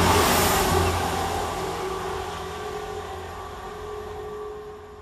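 Passenger train, a Class 165 diesel unit, runs through a suburban station in the rain with a loud, steady rumble that fades slightly over a few seconds, accompanied by a broad wash of hiss.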